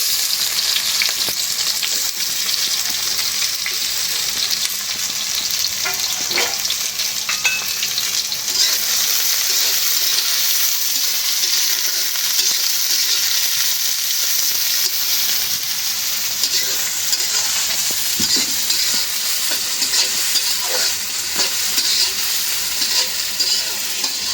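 Onions fry in a pan with a loud, continuous sizzle and crackle that runs unbroken. Occasional faint stirring knocks sound under it.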